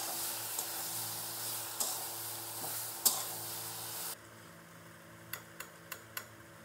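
Bamboo shoot and egg fry in a pan with a steady close sizzle for about four seconds, then the hiss drops away and a few light clicks or taps follow in quieter air.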